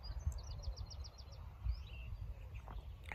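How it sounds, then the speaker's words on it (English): Small birds tweet faintly outdoors on a quiet morning, giving a quick run of high repeated chirps and a few scattered calls over low, soft background rumble. "Don't know if you can hear the birds tweeting."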